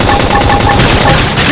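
Rapid gunfire and explosive crackle from a flame grenade attack during combat in Xenoblade Chronicles X Definitive Edition, loud and continuous throughout with steady rattling bursts, no speech over it.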